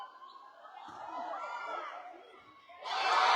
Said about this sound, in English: And the crowd getting behind her now.